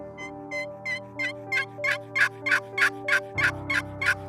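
A wild turkey gobbles in a Kentucky fall hunting setting, sending out a rapid string of about a dozen rattling calls that grow louder and closer, with a faint steady hum underneath.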